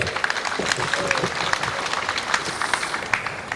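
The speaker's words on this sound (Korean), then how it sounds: "우리 다 같이 환영의 박수 부탁드리겠습니다." An outdoor crowd at the opening ceremony of the 26th Icheon Peach Festival gives welcoming applause, steady, moderately distant clapping with sharp individual claps standing out.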